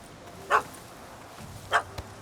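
A dog in The Witcher 3: Hearts of Stone video game barks twice, spaced about a second apart, moderately distant over a low ambient background.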